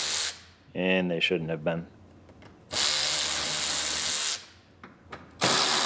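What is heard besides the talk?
removing screws from a Lincoln MKT with power tool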